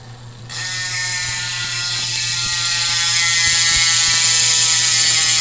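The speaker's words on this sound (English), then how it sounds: "here comes the free body sound test on the Bontrager ELS RSL 51 wheels." Rapid, continuous freehub ratcheting from a Bontrager ELS RSL 51 bike wheel on a 2023 Trek Madone, a dense buzzing click that starts abruptly and holds loud and steady, close up with no talk.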